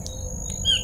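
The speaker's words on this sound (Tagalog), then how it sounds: "May ibon na tumutunog mga boss." A bird squawks inside a horror video game, with short, faint high calls against a low game ambience and one slightly louder call near the end.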